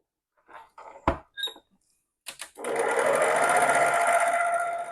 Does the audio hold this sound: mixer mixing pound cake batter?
yes